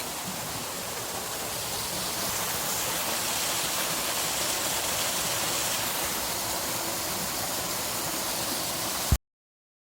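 Stream water rushes steadily into a pipe that carries it out to the ocean, a continuous close wash of hiss and gurgle at an even level that cuts off abruptly near the end.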